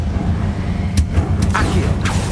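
The Confringo explosive spell goes off in Hogwarts Legacy, a few sharp fiery bursts over a low rumbling game background.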